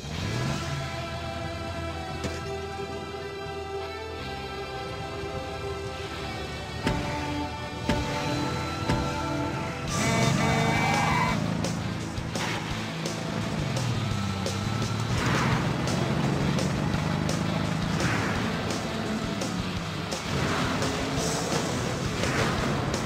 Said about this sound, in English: Ah, a good old-fashioned drag race.